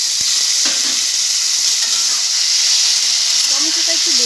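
Curry ingredients fry in a pan with a steady, close sizzle and hiss that fills the whole stretch, with a few faint stirring scrapes near the end.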